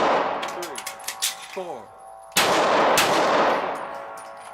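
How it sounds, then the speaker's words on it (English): Pistol shots ring out on a Deputy Marshal court security course of fire: a run of quick sharp cracks and metallic clangs, then one loud blast trailing into reverberant rumble, with a voice briefly counting. "Firing 2 rounds, center mass, reload, and fire 2 rounds, center mass, within 20 seconds."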